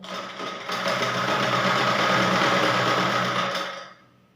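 Electric sewing machine running steadily for a few seconds as it stitches around the neckline of a blouse, a close, continuous whirring hum that starts, holds and then stops, with no talking.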